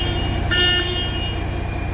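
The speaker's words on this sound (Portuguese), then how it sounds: "Vou buzinar." A radio-controlled kit truck's horn gives one short, bright toot near the middle, over a steady low electronic hum and buzz, then falls quiet again.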